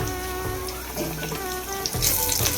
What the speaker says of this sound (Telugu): ఈ చిన్న ఎల్లిపాయలు కొంచెం వేగనిద్దాను